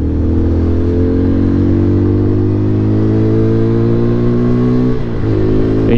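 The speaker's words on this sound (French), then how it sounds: "C'est pas un bruit de moteur, mais c'est purement l'échappement qui se fait remarquer." A Peugeot PM-01 motorcycle's exhaust drones loudly and steadily as the bike accelerates up the Mont Faron road, a close, sustained engine note with a slight change near the end.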